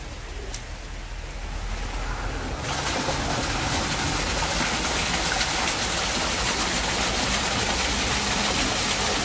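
A compact 12V 250W water pump powered from a 12V battery outdoors in the rain switches to full flow after a few seconds, becoming a loud, constant rushing water hiss with an underlying motor drone, no speech.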